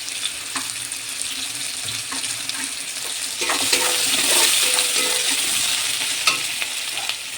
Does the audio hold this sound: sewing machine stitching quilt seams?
no